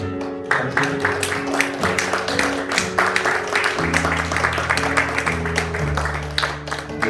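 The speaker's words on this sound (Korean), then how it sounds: "일단 일어나 주시면 박수로 환영하겠습니다" A church worship gathering applauds to welcome the worship team with steady clapping, heard together with sustained instrumental music tones and a voice speaking.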